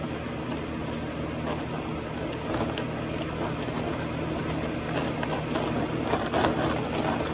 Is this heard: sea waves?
no